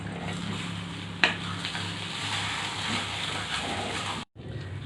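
Saffron-soaked milk is stirred into kesari in a hot pan, a steady loud sizzle and bubbling hiss with one sharp knock near the start and a brief cut-off near the end.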